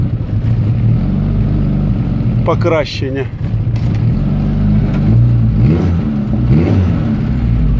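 A ZAZ car with a faulty choke cable starts and revs, its engine droning steadily and loud through the whole stretch while someone talks over it.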